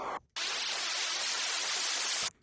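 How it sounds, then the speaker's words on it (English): A long noise sweep from a phonk remix: a loud, hissing wash of white noise swells in after a brief dip and holds steadily for about two seconds before dropping away. "Then we have this long sweep"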